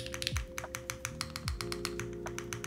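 Typing on an assembled Kyubi mechanical keyboard kit: a quick, uneven run of crisp key clacks, close and clear, with no voices over it.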